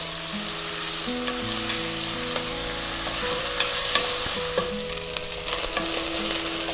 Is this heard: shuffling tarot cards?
no